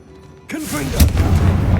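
A Confringo blasting spell goes off in Hogwarts Legacy: a voice calls out briefly, then a sharp, booming burst lands with a loud rumbling tail that fills the rest of the moment.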